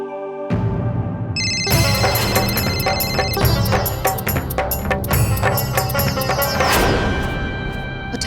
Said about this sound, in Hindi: उठा लीजिए, वरना बार बार फोन करेगी और अम्मू सो नहीं पाएगी।